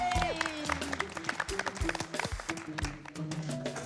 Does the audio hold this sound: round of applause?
yes